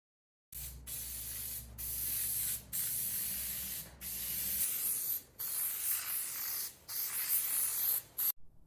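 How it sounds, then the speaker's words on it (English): Glue is sprayed onto a Jeep XJ headliner and fabric in a run of steady hissing aerosol bursts, each a few seconds long and separated by brief pauses, close and clear. "we applied glue vertically and horizontally on the headliner and also on the fabric"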